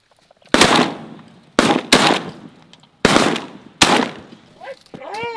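Shotgun blasts while hunting sandhill cranes in Texas: five loud, close shots in uneven succession, two fired almost back to back, with calls and brief voices between them.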